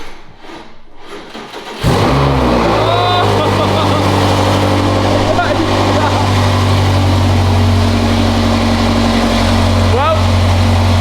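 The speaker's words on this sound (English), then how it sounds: "we can actually run this car to temperature and give it a few revs as well" BMW M5 Competition engine starting from quiet and settling into a loud, steady idle after the first seconds, with a few brief blips of revving; a voice talks over the rumble.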